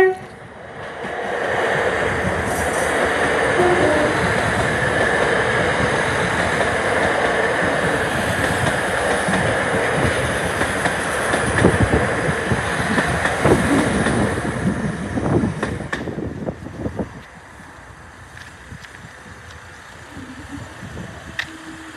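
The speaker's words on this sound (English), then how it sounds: "Oh, Lewis is going to be on this train, I think" Train passing Cullybackey North Level Crossing in County Antrim, a sustained rumble and rattle of the rail cars with wind buffeting the microphone, fading noticeably in the final seconds.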